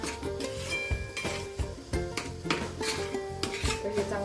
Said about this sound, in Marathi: आता हे चला परत व्यवस्थित मिक्स करून घेऊया